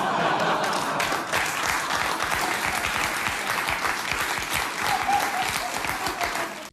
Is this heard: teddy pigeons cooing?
no